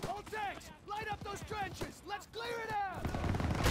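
Tanks and rifles pour fire onto enemy trenches in Call of Duty: WWII, with repeated sharp shots and rumbling bursts mixed under raised voices and whining tones, building to heavier, denser fire at the close.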